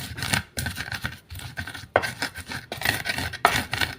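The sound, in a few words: grinding chili sauce with mortar and pestle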